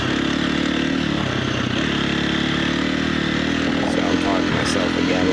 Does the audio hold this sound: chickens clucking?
no